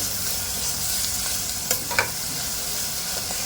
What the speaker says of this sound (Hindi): प्याज के साथ में अदरक लहसुन को अच्छे से भूनेंगे